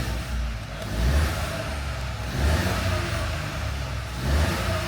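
A Ford Fiesta with a freshly replaced wet timing belt idles smoothly and evenly, not yet up to temperature, with a steady low engine drone that swells slightly at intervals.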